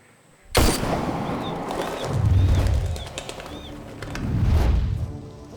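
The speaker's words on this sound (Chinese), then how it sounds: "为什么会有枪声啊？" A gunshot in a Singaporean TV drama: one sudden loud bang, followed by a lingering rumbling wash of noise that swells and fades over several seconds.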